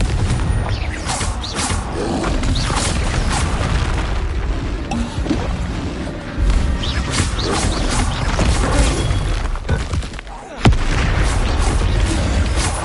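Confringo blasting-spell explosions in Hogwarts Legacy, booming in a dense, continuous barrage of deep blasts and crackling debris, loud and close throughout with a sharp extra burst near the end.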